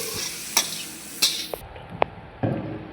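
Turmeric powder and spices stirred into a pot for veg pulao, close frying sizzle broken by several sharp scrapes and knocks of a spoon against the pot.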